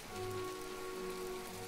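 Steady rainfall in the video game My Time at Portia, a soft, even patter of drops on surfaces that holds constant throughout, with a faint tonal hum underneath.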